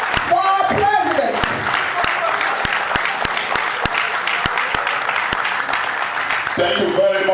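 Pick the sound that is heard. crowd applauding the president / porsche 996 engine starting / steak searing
crowd applauding the president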